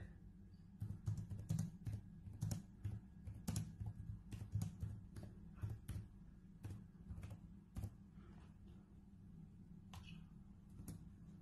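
Keys click on a computer keyboard during an online class, a close, quiet, irregular patter of keystrokes in bursts that thin out later, with no talking.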